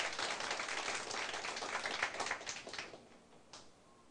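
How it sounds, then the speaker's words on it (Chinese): An audience claps together at a lecture gathering in Taiwan, with dense steady applause that thins and fades toward the end. "我们也为高沙族青年来拍手拍手一下。"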